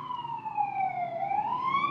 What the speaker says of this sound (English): I'm gonna wait for that siren to pass